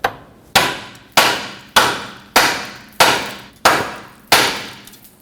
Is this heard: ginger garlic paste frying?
no